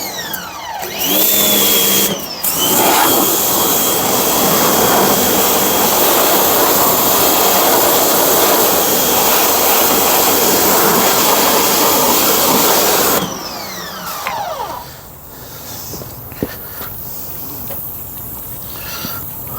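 A pressure washer runs at a garage or shop, a loud steady high-pitched roar that starts after a brief stutter, holds for about twelve seconds, then cuts out to quieter background.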